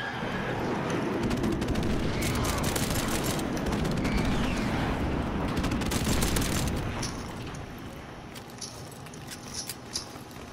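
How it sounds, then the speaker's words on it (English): In the Modern Warfare Remastered video game, a friendly airstrike lands as a dense, rumbling barrage of explosions and crackling blasts that fades to scattered sharp pops near the end. "Friendly airstrike on the way."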